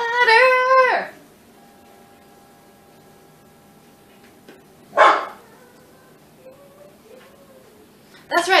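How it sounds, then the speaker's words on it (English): A dog barks in a short burst of several yaps near the start of a home kitchen scene while peanut butter cookies are mixed, then a second brief bark follows a few seconds later, with quiet room noise between. "That's right, the dog says, yes, go for it."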